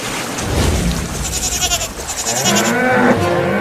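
A goat being swept along by village floodwater bleats over a loud, rushing wash of water, the calls wavering and repeated in a noisy outdoor scene.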